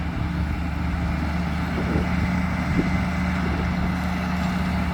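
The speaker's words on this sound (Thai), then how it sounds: "แต่เครื่องยนต์คอมมินครับ เงียบกิ๊บเลย" A Cummins engine idles in a truck, a steady low hum that runs quietly and evenly throughout, with faint knocks in the background and no talking.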